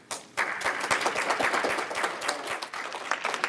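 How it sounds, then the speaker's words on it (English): An audience at a family program event breaks into applause, a sudden start followed by steady clapping with distinct sharp individual claps in the mix, fairly close. "I wanted to come up here so we can give them all a round of applause."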